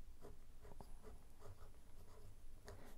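A Sailor Pro Gear fountain pen with a music nib scratches faintly across paper in short, separate strokes, quiet and close with soft background hiss.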